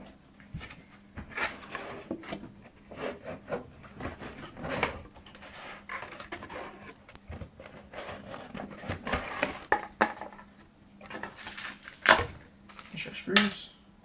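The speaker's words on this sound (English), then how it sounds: "now we're going to put in our power supply" A power supply unit is fitted into a budget gaming PC case, with scattered clicks, knocks and plastic-and-metal handling sounds close by and irregular, and someone talking at times.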